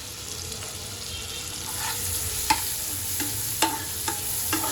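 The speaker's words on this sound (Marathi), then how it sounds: "इथे मेल्ट झालेला आहे बटर आणि इथे टाकलेला आहे जिरा। आता याला मिक्स करूया। टाकूया याच्यात कांदा।" Onion fries in melted butter with cumin, giving a continuous soft sizzle while a utensil stirs with occasional scraping clinks against the pan.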